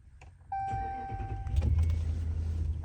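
A V8 truck engine cranks and starts, then settles into a deep, rumbling idle, close and steady.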